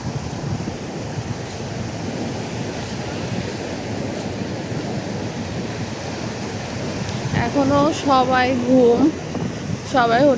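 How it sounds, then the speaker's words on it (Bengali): Surf washes up along the Cox's Bazar beach in a constant roaring hiss with gusty wind noise, and a person starts talking over the waves near the end. "ঢেউ কত দূর এসে পড়েছে"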